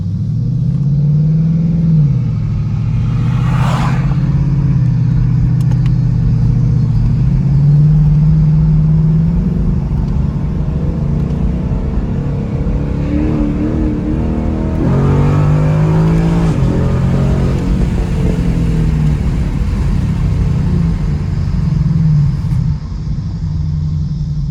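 A 2019 Ford Mustang GT V8 with an X-pipe exhaust driving through city streets, giving a loud, continuous deep rumble from the cabin with repeated rev rises and gear changes throughout.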